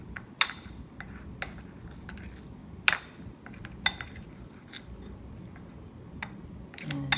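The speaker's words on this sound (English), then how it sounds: "You mix properly. You stir properly," A spoon clinks against a dish while stirring a yogurt and honey face mask, with sharp scattered taps at an uneven rhythm over a quiet background.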